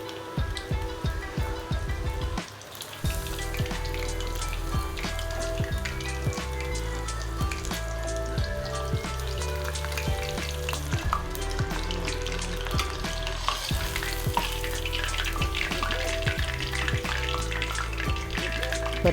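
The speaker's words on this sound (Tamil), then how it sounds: "இது எண்ணெயில் ஒரு 30 செகண்ட்ஸ் இருந்தால் போதும்." Prawns deep frying in hot oil, a steady, loud bubbling sizzle that holds continuously from start to finish with no voices over it.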